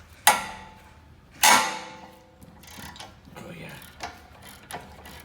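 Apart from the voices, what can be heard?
ratchet loosening Honda CR-V caliper bracket bolts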